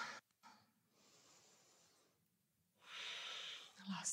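Audible breaths of a person holding a yoga pose in a Rocket Yoga flow, soft hissing inhales and exhales, a short sniff early, then a louder, longer breath near the end, alone without talk.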